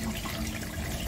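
Water runs steadily over used tea leaves as they are rinsed, a brief, even splashing pour.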